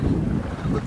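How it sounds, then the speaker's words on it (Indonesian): Strong wind roars and buffets the microphone aboard a rocking fishing boat at sea off Takalar, a loud continuous rush with low rumbling. "memang anginnya kencang banget."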